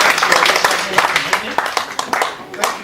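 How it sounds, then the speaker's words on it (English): At an African Traditional Medicine Day celebration, an audience claps in a short burst of scattered, close hand claps mixed with talking. "Please, let's clap."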